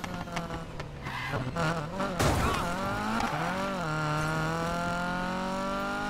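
A Volvo Amazon P130 car engine in a video game roars, then a short burst of tire squeal as it brakes, followed by the engine settling into a steady drone.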